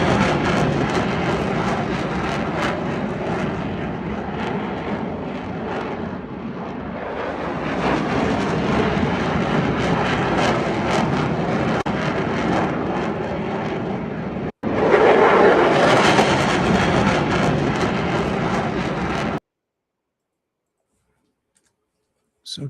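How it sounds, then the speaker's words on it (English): CF-18 and F-35 fighter jets fly over Parliament Hill, a loud continuous roar of engines swelling and holding for most of the span, with wind buffeting the microphone, then cutting abruptly to silence. "there was a flyover at Parliament Hill today with CF-18 and F-35s"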